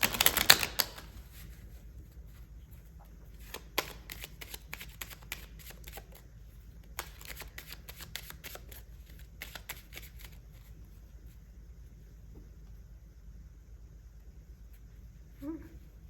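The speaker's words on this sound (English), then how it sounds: "I want to pull these chakra cards and see what comes up." Chakra oracle cards being shuffled by hand in several quick bursts of crisp riffling and flicking, separated by short pauses, close and fairly quiet with no talking.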